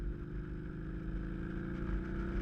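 A 2003 Harley-Davidson V-Rod motorcycle engine drones steadily while riding along a winding road, a loud, continuous throbbing hum with rough pulsing texture and no speech.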